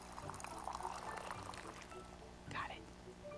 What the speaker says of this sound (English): Let's go for a perfect pour.